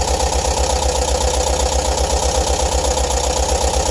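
A bus engine held at raised RPM during a fault check involving the airflow meter, a steady, loud mechanical drone with a throbbing low pulse that stays even throughout, no voices.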